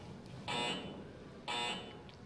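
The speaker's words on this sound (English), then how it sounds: "you'll hear the beeps on every shot here from Dom Cooney." Two short electronic shot clock beeps about a second apart during a pool match, clear tones over a quiet room murmur.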